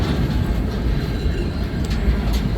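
CN 3368, an ex-BNSF C6M rebuild locomotive leading northbound train L563, arrives at Ladysmith, Wisconsin, with a continuous loud rumble of rolling railcars and faint wheel noise.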